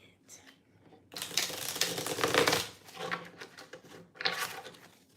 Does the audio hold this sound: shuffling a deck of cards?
yes